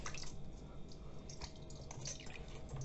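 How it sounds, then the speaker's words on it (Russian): Cold water runs and splashes over salted squid tentacles in a colander, a faint, steady trickle with soft drips and no speech. "Промываем холодной водой."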